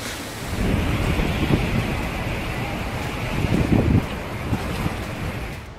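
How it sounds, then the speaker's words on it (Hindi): Strong cyclone Remal winds roar continuously alongside the wash of high ocean waves on the West Bengal coast, a loud, dense rush with gusts swelling and buffeting the microphone throughout. "तेज रफ्तार से सनसनाती हवाएं मानो सब कुछ उड़ाने पर आमादा हैं।"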